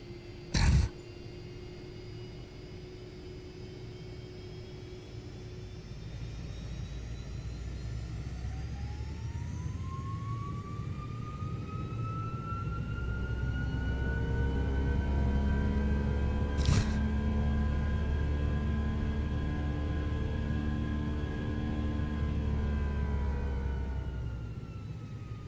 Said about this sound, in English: I want to hear those engine sounds again.